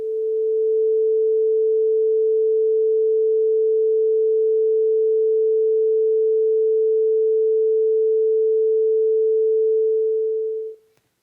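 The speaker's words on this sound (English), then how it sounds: "that's going to be just the fundamental note without overtones" A single steady A440 sine tone with no overtones, clean and constant at moderate loudness for about ten seconds before cutting off abruptly.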